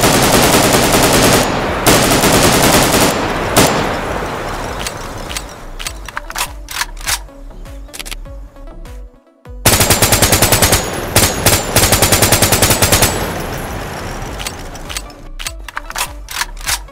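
An AKS-74 rifle fires in the Roblox game Stabx Modern Guns, delivering loud, rapid automatic bursts of sharp shots with a brief gap midway, then more fast strings of fire.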